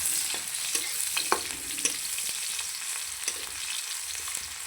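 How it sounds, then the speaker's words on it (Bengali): Garlic and onion frying in a pan while spinach is being cooked, giving a steady soft sizzle with intermittent clicks of stirring, close and moderately quiet throughout. "দিয়ে দিলাম রসুন সুন্দর করে এটাকে ভেজে নেব"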